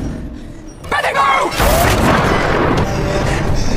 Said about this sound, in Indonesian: Beth langsung menggunakan bedil somplak milik Pak Bewok untuk membuka kunci